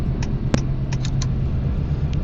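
A town car engine with dual pipe exhaust in the Roblox game Greenville, a steady low rumble heard up close with a few short light clicks on top.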